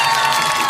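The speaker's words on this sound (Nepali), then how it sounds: "ताली ताली ताली ताली" Clapping and cheering at a 25th wedding anniversary celebration, a brief, loud, dense burst of crowd noise with excited voices close by.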